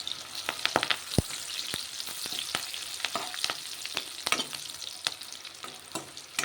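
Curry leaves frying in hot oil with peanuts for a peel chutney, a bright crackling sizzle with sharp pops and repeated stirring clicks, close and continuous.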